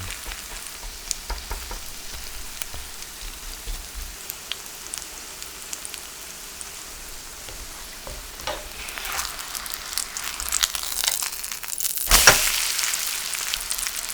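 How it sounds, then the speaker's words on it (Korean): Mugwort batter fries in hot cooking oil in a pan, thin hand-sized pancakes giving a steady close crackling sizzle that builds louder toward the end, with no talking. "팬 올리고 식용유 충분히 달궈주면 반죽을 넣고 얇게 펴서 손 크기만 하게 붙여냅니다"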